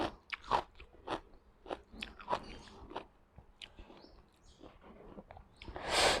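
Someone eats blanched squid tentacles dipped in a spicy three-flavour seafood sauce, with close, wet biting and chewing in a steady rhythm, a few crunchy bites and a louder rustle at the end.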